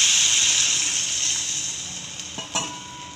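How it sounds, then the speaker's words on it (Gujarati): Water poured into a pot of potatoes, a steady loud rushing stream that gradually eases, ending with a couple of soft knocks. "હવે પાણી નાખશું। આપણા બટેકા બુડે ને"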